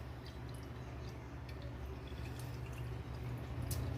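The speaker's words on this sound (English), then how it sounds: "going to take and fill my water bottle real quick with water" Steady, soft trickle and splash of water running into a water bottle as it fills, continuous and fairly faint throughout with a low background hum and a few small drips.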